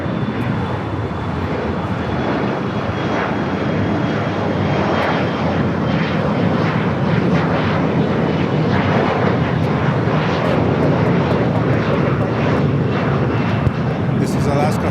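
An Alaska Horizon airliner at LAX rumbles steadily and loudly through the whole stretch, a broad engine roar that holds without a break while a voice talks over it.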